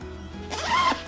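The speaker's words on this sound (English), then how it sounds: "zip that up like that" A zipper on a Ju-Ju-Be Mini Super Be bag is pulled closed in one smooth, close, fairly loud sweep lasting about half a second, with low hum underneath.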